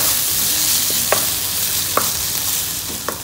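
A spatula stirs beef roast masala in a frying pan, scraping with a few distinct clacks over a steady, close sizzle. No one talks.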